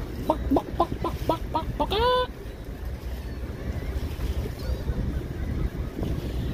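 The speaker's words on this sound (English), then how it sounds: "Chickens." Chickens cluck in a rapid run of short calls followed by a rising squawk, loud and close, then fade into steady outdoor wind and rumbling noise.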